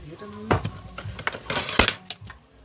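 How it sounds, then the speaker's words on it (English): A knife finely chopping onions on a board makes irregular sharp taps and clacks up close, interspersed with quieter handling noises. "I'm just gonna finely chop these up so they're not so big and chunky"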